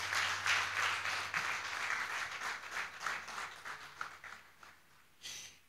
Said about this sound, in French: une magnifique communication qu'il sied de reconnaître à travers des applaudissements bien nourris